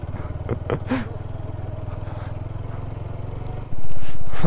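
A motorcycle engine chugs at a low, steady idle-like rhythm while the bike slips on a slick high-mountain road, then surges much louder as it accelerates near the end.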